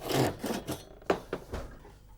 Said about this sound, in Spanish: el artesano secciona las pinas con una de las viejas sierras de bastidor